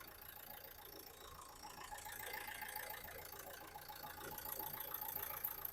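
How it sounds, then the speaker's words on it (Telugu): A 2014 Nissan Terrano RXZ diesel engine idles with a faint, steady low hum and a soft knocking texture, unbroken from start to finish. "ఇంజన్ బీటింగ్ అయితే ఎక్స్టెండ్ ఉంది బండికి."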